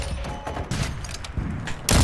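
Sniper rifle fire in a shooting video game: a few muffled thumps followed by one sharp, loud shot near the end, with no talking.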